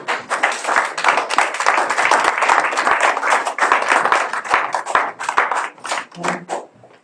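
Church congregation at a Sunday service clapping in unison, a dense, steady rhythmic applause of many hands that carries on for several seconds before thinning out, with a brief voice near the end.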